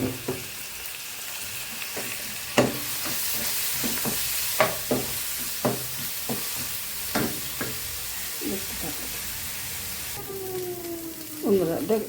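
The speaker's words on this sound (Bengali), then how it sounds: "পেঁয়াজটাও এরকম লাল করে ফ্রাই করে নেব।" Onions frying in hot oil after garlic for a fish egg curry, giving a steady sizzle broken by repeated scraping and stirring knocks of a spatula in the pan, with no talk over it.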